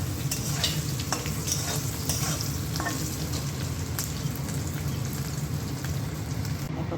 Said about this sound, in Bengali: পনিরটা ভেজে নিচ্ছি